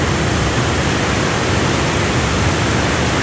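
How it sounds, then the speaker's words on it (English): Brasstown Falls in Georgia pours over a rocky edge in a steady, loud, unbroken rush of water, a dense roar that stays even throughout with no voices. "Here's the waterfalls going over the edge here."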